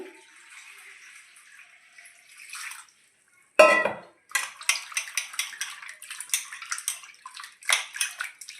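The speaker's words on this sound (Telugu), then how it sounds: "ఇప్పుడు క్లీన్ చేస్తున్నాను మళ్ళీ అయితే మంచినీళ్ళతో కడతాము" Water splashes and sloshes in a basin while raw chicken is rinsed by hand, with clattering of a pot or dish between bursts of running water.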